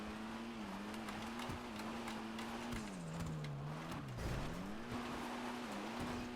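A Dinka Blista Kanjo car drives in GTA 5 Online with a steady, continuous engine drone whose pitch wavers and dips briefly, close and moderately loud, with no talking.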